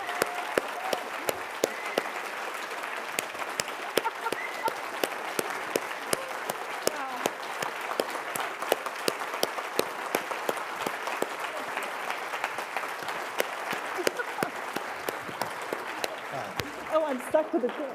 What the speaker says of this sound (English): I think I'm going to just ask for a round of applause for Rochelle, for your service.